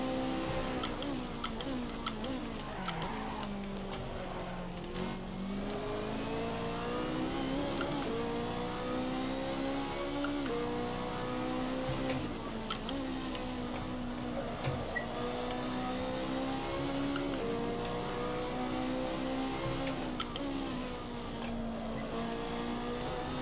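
A BMW race car engine in a sim race at Monza hums and revs in shifting waves, steady and moderately loud, with frequent sharp ticking clicks layered over it.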